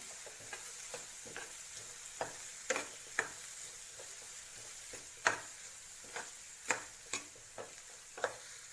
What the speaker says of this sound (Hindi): इसको हमें अच्छे से मसालों को मिक्स करना है।